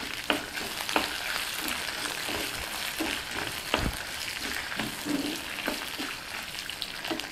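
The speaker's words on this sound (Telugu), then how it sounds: "కొద్దిగా చింతపండు కూడా వేసి వేయించుకుందాం." Mustard seeds, garlic, green and dried red chilies and tamarind fry in hot oil, with a loud continuous sizzle broken by sharp pops and the scrape of stirring, and no talking.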